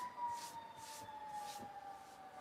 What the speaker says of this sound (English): There's an ambulance or a fire truck.